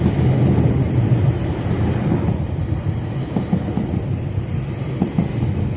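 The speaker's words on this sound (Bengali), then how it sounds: "চমৎকার ডাবল ডেকার ট্রেন অর্থাৎ দোতলা" A double-decker passenger train in Toronto, Canada rolls steadily past nearby, a continuous rumble with faint rail clatter and a thin high squeal, no voices.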